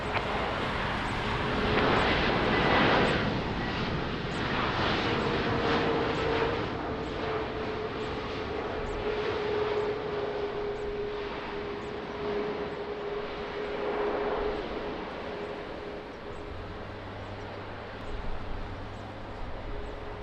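An airliner taking off at Lisbon Airport in the rain, a broad sustained jet roar with a steady whining tone, loud and continuous for about twenty seconds with no voices.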